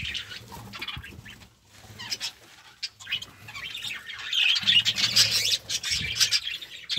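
Parakeets in a breeding colony of cages chirp and squawk in busy overlapping calls, close and fairly loud, with wing flutters and cage rattles mixed in and no talking.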